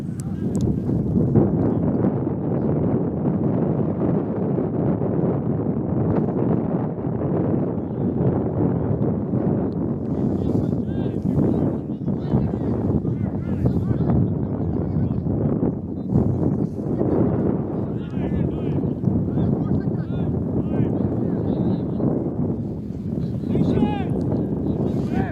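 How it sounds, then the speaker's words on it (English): Strong wind gusts of about 30 mph buffet the microphone at an outdoor amateur soccer match, a steady loud roar of broadband rumble lasting throughout with no clear pauses. "You might be hearing the wind gusts 30 miles per hour"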